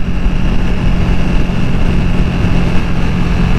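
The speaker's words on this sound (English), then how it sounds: "The sound of this engine." A Ducati Panigale V2 motorcycle engine running hard during an acceleration run, a loud, close, continuous roar with a steady drone and no talking over it.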